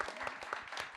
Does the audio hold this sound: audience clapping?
yes